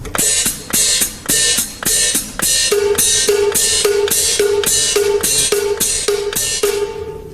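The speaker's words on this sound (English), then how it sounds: "And on the cowbell, we'll have an upbeat rhythm." A steady cowbell pattern pulses in an upbeat rhythm, regular hits with bright metallic tops, played loud and alone with crisp cymbal-like ticks throughout.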